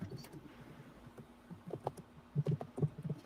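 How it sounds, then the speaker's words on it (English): Computer keyboard typing during a casual talk show broadcast: scattered, irregular key clicks, quiet at first and then a denser burst of sharper taps toward the end, with no voices. "I was typing something."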